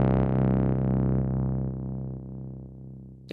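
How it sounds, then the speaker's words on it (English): A single fat bass hit from a U-he Diva software synthesizer rings out close and loud, then slowly decays and darkens over about three seconds. "We have this bass hit which sounds like this."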